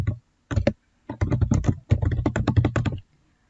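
Someone types a treatment note on a computer keyboard in a clinical records program: close, quiet bursts of rapid key clicks separated by short pauses, with no talking.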